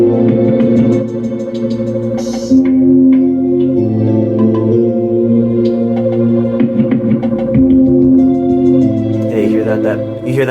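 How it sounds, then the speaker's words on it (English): Bass-heavy music plays loudly through small, cheap computer speakers and a subwoofer, with deep sustained low tones and a murky, throbbing texture. "You hear that bass"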